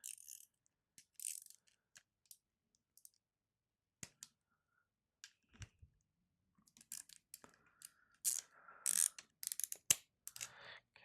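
Small hex screws being tightened on a red dot optic mounted to a VFC P320 M17 airsoft pistol: sparse, faint ratcheting clicks and light metallic ticks, close up, growing busier toward the end.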